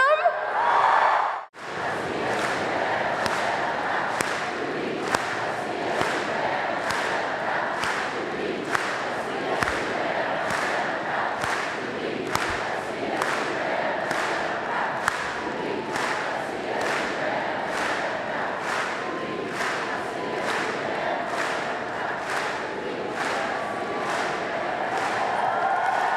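A big hall of freshman students, the class of 2020 at Colorado State University's 2016 Ram Welcome convocation, roars with loud, sustained cheering and whooping, punctuated by steady rhythmic stomps or claps for about twenty-five seconds.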